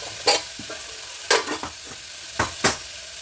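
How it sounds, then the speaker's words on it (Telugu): Tomato and brinjal pieces frying in oil in a home kitchen, with four sharp scraping stirs of a spoon against the pan over a steady low sizzle, heard close up with no talking. "టమాటా కొంచెం నూనెలా ఉడికినాక వంకాయ ముక్కలు వేస్తా."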